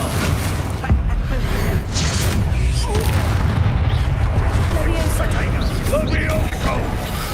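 Confringo blasting curse spells from Hogwarts Legacy explode in a series of booming bursts and crackling impacts amid game combat noise, loud and dense with recurring thuds across the stretch, under occasional voices.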